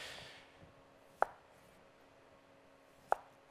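A chef's knife slices vegetables into quarter- to half-inch rounds on a cutting board, two sharp isolated chops spaced about two seconds apart in a quiet kitchen.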